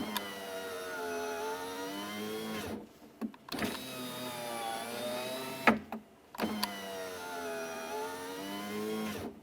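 The front power window motor and regulator in a 2012-2015 Honda Civic door whirs through three separate runs of about three seconds each, with short silent pauses between them.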